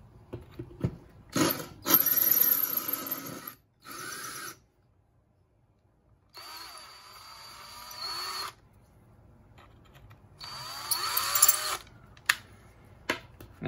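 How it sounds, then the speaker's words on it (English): A small power drill boring a hole in a bead whines in several bursts, starting and stopping with short pauses, its pitch wavering as it bites into the material, close by. "we can move on to our big, big drill bit"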